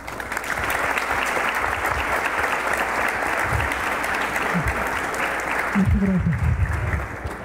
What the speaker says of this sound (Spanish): Les pido de favor que recibamos con un fuerte aplauso al doctor